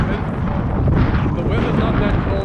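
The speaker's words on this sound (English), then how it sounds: "The weather's not that cold, it's just super windy" Strong gusts buffet the microphone outdoors on a Baja coast, a loud, continuous roaring rush of wind that swells and ebbs without a break.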